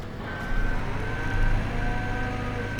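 Skid steer loader reversing in Farming Simulator 17, a steady repeating electronic backup beep over a low engine rumble, moderately loud and continuous with no talk.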